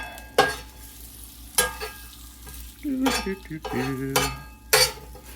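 Pizza bagels sizzle on a flat griddle as a spatula flips them, with sharp metallic scrapes and clanks at irregular intervals over a low, steady frying hiss and a brief murmur of voice.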